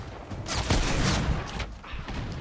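Gunfire in the video game The Order: 1886, a shotgun blasting in a dense, continuous volley of loud, close shots that overlap into a sustained roar with short gaps.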